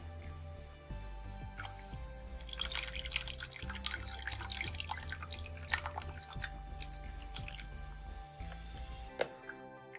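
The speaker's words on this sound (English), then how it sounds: "We are going to add our lye solution." Lye solution is poured into a vegan cold-process soap batter made with sustainably sourced palm oil, giving a faint, quiet trickle and drips of liquid with small splashes.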